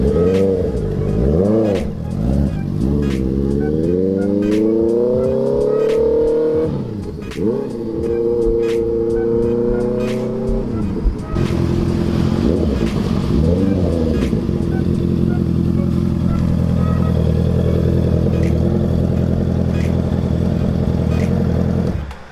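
A Honda CBR650R motorcycle engine while riding, loud and close, rising and falling through several revving sweeps and gear changes before settling into a steady, heavy drone.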